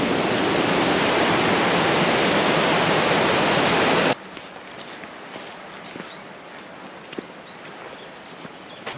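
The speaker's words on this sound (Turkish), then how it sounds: "Onun yerine bayağı geniş ve büyük bir nehir burası." A loud, steady rush of a wide river flowing in Peru fills the first four seconds, then cuts to a quieter outdoor scene with faint birdsong and light rustling.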